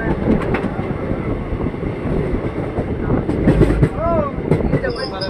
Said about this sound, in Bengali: বাজার শো থেকে ট্রেন ছেড়ে দিয়েছে